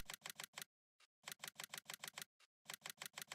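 Rapid, crisp clacking of keyboard keys comes in quick rhythmic runs with two short pauses, close up and loud with no talking over it.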